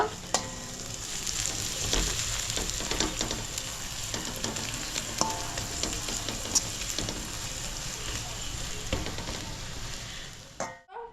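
Cloves frying in hot oil in a pan for a restaurant-style egg masala, a steady close sizzle with scattered scraping knocks from stirring throughout, with no talking.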